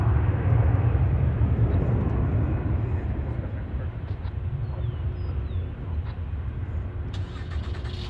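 A British Airways airliner at DFW airport produces a loud, steady jet roar that rumbles continuously from a distance, with faint voices beneath it.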